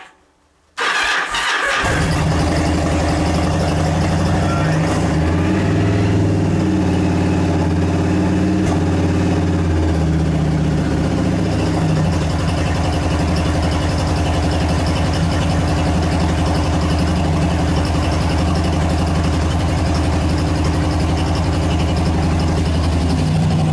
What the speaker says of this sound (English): bike hasn't run in weeks. I'm gonna fire it up.